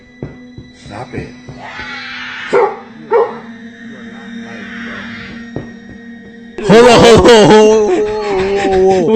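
Several sharp dog barks ring out, loud and close, in short bursts and then a sustained run of barking at the end, with people talking in between.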